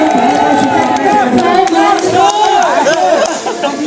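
A lively audience at a Hindi talent showcase event erupts with clapping, cheering and shouts for a performance, a loud, continuous crowd roar with voices mixed in throughout.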